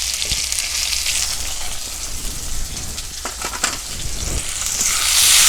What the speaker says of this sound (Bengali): ফোড়নে দেব সাদা জিরে, আদা কুচি, টমেটো কুচি, একটা কাঁচা লঙ্কা কুচি